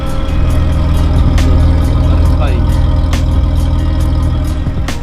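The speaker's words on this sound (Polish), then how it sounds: "Fajnie chodzi silnik, tak równiutko." A car engine idles steadily and evenly, a constant low rumble filling the clip, with a few faint clicks and bumps over it.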